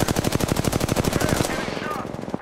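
Rapid automatic gunfire in the video game Apex Legends, a fast even burst of about twenty close, loud shots that stops suddenly, followed by a short fading tail.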